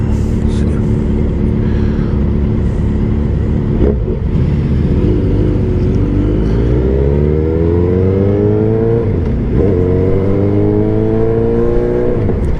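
A Yamaha VMAX motorcycle engine roars nearby, its pitch sweeping up and down as it revs and passes, loud and continuous over steady traffic noise.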